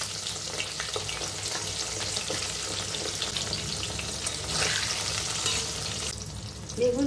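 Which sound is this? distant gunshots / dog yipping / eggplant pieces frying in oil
eggplant pieces frying in oil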